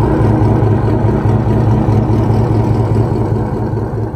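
A 2014 GMC Sierra with a 5.3 V8, long tube headers and a Borla ATAK exhaust idles with a loud, deep, steady rumble close by, then eases slightly toward the end.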